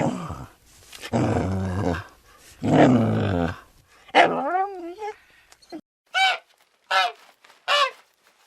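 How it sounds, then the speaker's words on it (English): Dog barks and yips, several loud separate calls with a drawn-out whimpering whine in the middle, then a run of short evenly spaced yelps, close and alone with no talk. "Dog."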